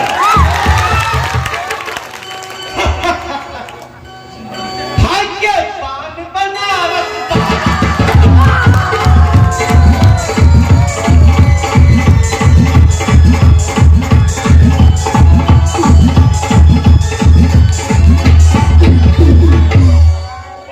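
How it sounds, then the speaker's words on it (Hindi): Audience at a stage play performance clapping loudly and cheering, with shouts from the crowd; a voice speaks over it at first, then after a short lull the applause swells into sustained, dense, close clapping to the end. "एक जोरदार ताली हो जाए"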